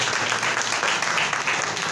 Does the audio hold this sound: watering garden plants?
no